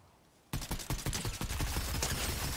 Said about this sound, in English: He's shooting at somebody.